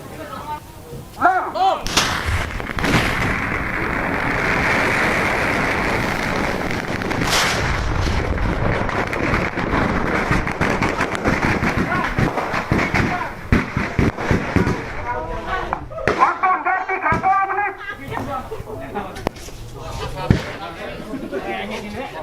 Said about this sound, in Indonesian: Ledakan hebat melanda sebuah rumah akibat gegana Satuan Brimopolda Jawa Timur bersama dengan Polres Bangkalan Jawa Timur memusnahkan ribuan petasan